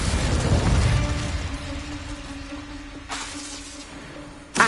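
Incendio fire spell cast in Hogwarts Legacy: a loud whooshing burst of flame that decays into a humming tail, followed by a couple of short sharp hits.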